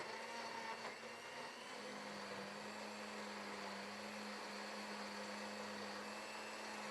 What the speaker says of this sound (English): Blend them together until well combined